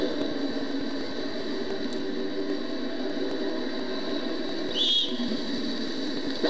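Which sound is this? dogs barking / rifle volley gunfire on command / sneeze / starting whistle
starting whistle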